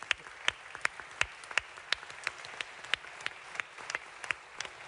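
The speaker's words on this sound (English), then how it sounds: "a very well-deserved round of applause" A small, thin scattering of applause after a speech at a UN climate week event in London, individual claps distinct and uneven, fairly faint and in the distance.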